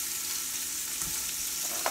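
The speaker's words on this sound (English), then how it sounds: "we want to get a nice sear on the one side" Meat sears in a hot pan for chili, a steady broadband sizzle holding evenly throughout with a couple of faint clicks near the end, no talking.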